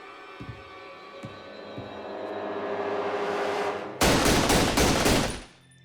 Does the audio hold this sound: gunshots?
yes